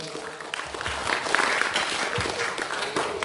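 Audience members at an Islamic boarding school gathering clap together in a moderate, continuous round of applause with some murmuring voices underneath.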